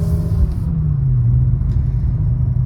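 A BMW M5 E60 driving in first gear, its engine giving off a steady, close, low rumble with a slight rise in pitch partway through, and no talking.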